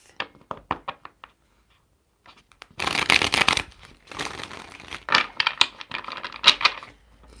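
A tarot card deck is riffled and cut by hand, opening with a few light separate taps, then a pause, then bursts of crisp shuffling flutters and snaps, close and fairly loud.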